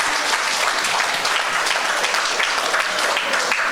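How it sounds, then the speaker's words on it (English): Dense, sustained audience applause at a mental health seminar, a loud even roar of many hands clapping without a break. "Give him a round of applause."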